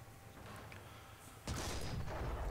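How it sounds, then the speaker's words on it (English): Artillery fire in the War Thunder ground battle: a low rumbling backdrop of distant shelling, then a loud blast lands about halfway through and leaves a heavy, sustained roar of nearby fire, with no voices. "we might as well clean up some of this artillery. I mean, it's just here, it's shooting us"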